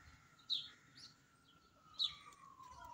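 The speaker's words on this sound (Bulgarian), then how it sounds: "Ето я другата птица." Faint, high chirps from a bird at a zoo, two short calls a second and a half apart, with a thin whistling tone in the background and no talking.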